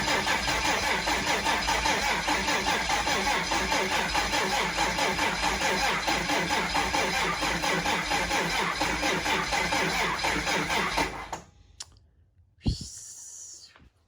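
A 2005 6.7L Cummins diesel engine cranks over continuously with a loud, rapid rhythmic starter chug for about eleven seconds, then cuts out, followed by a brief final attempt.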